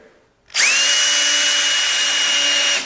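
A power drill spins a screw head into wood to countersink a hole: after a brief quiet start, the motor winds up into a loud, steady high whine that holds for over two seconds, close up and alone.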